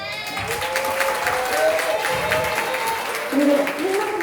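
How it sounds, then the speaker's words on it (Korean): Audience applause at a church university-youth mission report, after an introduction to a taekwondo performance by a church club, with steady clapping from a crowd over a few seconds and faint voices mixed in. "호응과 박수 많이 부탁드리겠습니다"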